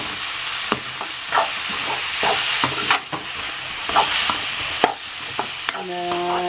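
Fish pieces are stirred in a pan while frying for meen puttu, with a loud, steady sizzle and repeated scraping strokes and clicks of a spatula against the pan. No one speaks.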